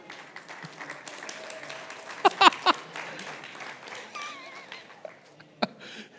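A small audience claps in a light, scattered way, with a few sharp louder claps standing out. Faint voices and indistinct talk murmur underneath.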